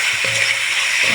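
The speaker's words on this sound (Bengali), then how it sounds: "আদা বাটা ও জিরে বাটা। খুব ভালো করে কষিয়ে নেব আমি" Ginger paste and cumin paste sizzle in a hot pan, a brief steady frying hiss, close and fairly loud, with a faint stirring scrape.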